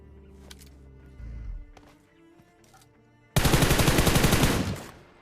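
Video game gunfire bursts out in a loud, dense rapid volley in the final two seconds, preceded by quieter game sounds and a brief low thump.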